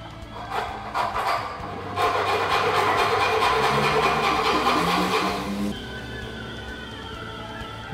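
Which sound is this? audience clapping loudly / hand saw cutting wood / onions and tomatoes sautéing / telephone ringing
hand saw cutting wood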